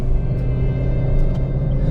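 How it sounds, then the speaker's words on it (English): A Honda Brio RS with a CVT transmission holds a steady, monotonous low drone under full throttle, the engine note staying constant rather than climbing, heard from inside the car. "When you do floor it, because it has a CVT, you get that recognizable CVT drone"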